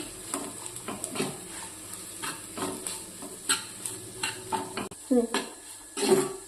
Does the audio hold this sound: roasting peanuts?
yes